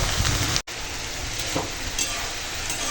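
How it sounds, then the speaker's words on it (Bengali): Leafy greens cook in a pan with turmeric and salt, a dense steady sizzle with faint stirring scrapes, cut by a brief dropout of sound early on. "এখন দিয়ে দেব হলুদের গুঁড়ো আর দেব স্বাদ মতো লবণ দিয়ে একটুখানি খালি শাকটাকে নেড়ে রান্না করে নেব"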